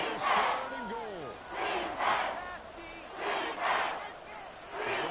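Stadium crowd in the Madden 24 football video game roaring and cheering in repeated swelling waves, loud and full, with a commentator's voice talking over it.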